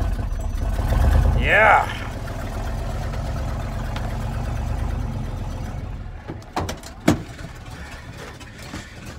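Cold propane-fuelled big block V8 rumbling at a rough, uneven idle on a Canadian winter morning, with an exhaust manifold leak, loud and close, a brief rev early then settling, a short spoken word near the end.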